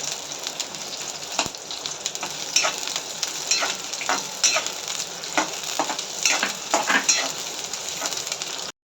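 Chopped onions fry in oil for matar paneer with a close, continuous sizzling hiss like light rain, interrupted by irregular scraping stirs of a spoon across the pan.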